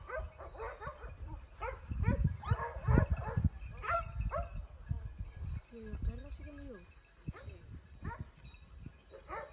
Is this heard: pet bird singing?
no